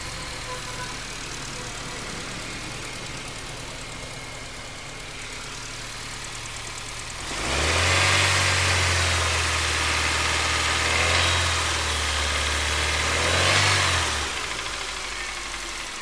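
A car engine idles with a low steady hum recorded close to the microphone, then swells into a louder rev around the middle before settling back to a smooth idle.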